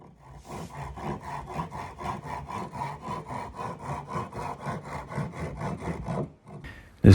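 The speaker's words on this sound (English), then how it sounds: "This is me sanding the neck profile on the neck." Steady back-and-forth rasping of sandpaper on a wooden guitar neck, shaping its profile, close and rhythmic, continuing for several seconds before stopping abruptly.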